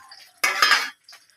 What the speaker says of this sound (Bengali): শুকনো লঙ্কা দিলাম।